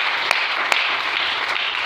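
A church congregation claps and cheers in acclaim of the Lord, a steady wash of applause with a few sharper claps standing out, filling the whole moment without speech.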